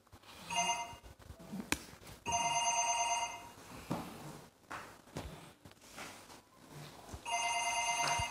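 A telephone rings in three separate bursts of bright electronic trilling, with quiet gaps between them where faint shuffling and small knocks are audible.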